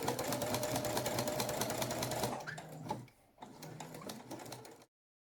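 A sewing machine stitches along an earlier seam in fast, even mechanical chatter at close range. It slows and pauses briefly partway through, runs again for a short burst, then stops.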